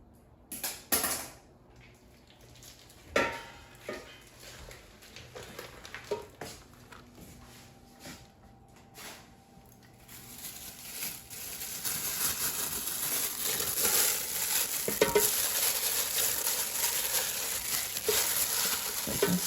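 Pre-marinated Trader Joe's beef bulgogi tipped from its package into an air fryer basket, with close crinkling of plastic, soft wet squishes and light metal clatter, spread out and then louder toward the end.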